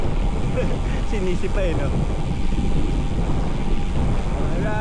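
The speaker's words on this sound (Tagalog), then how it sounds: "Lagi na lang malakas ang hangin." Strong wind roars into the microphone during a long bike ride, a constant close rumble under a voice as he talks.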